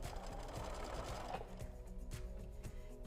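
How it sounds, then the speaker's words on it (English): A sewing machine chain-stitches fabric pieces with a steady, fast mechanical whir and rhythmic needle clatter close by, slowing slightly partway through, with no talking. "And I'm just going to start stitching."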